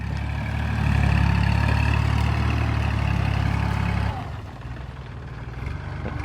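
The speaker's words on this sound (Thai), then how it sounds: "มาชมรถไถคูโบต้ากันครับ" A Kubota tractor engine running in a field, a loud heavy low-pitched idle that drops to a quieter, rougher rumble partway through, heard alone without talk.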